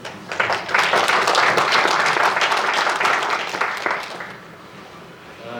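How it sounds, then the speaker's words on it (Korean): After a lecture, an audience gives a professor a warm burst of applause, a dense, loud wash of clapping that swells quickly, holds for several seconds, then tapers off. "유용순 교수님께 다시 한번 박수 한번 드리겠습니다"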